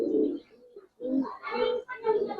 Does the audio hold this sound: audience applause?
no